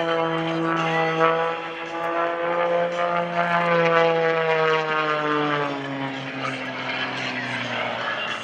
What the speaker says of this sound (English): He'll point the nose back down after he completes this torque roll, backing it up, hanging it on the prop, going backwards.